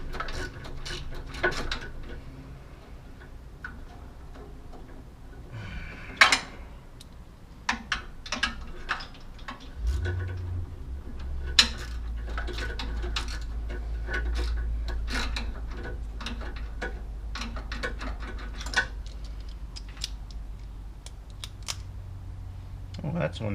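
A socket wrench ratcheting while removing a carburetor from a Karmann Ghia, with bursts of sharp clicks scattered across a garage recording, a low hum under part of it and a person talking at times.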